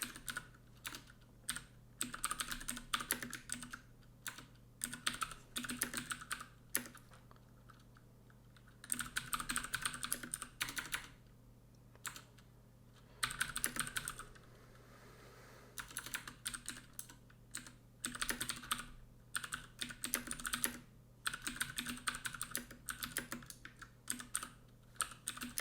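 Steady typing on a computer keyboard while writing code documentation, rapid clusters of close key clicks broken by short pauses, alone with no talk.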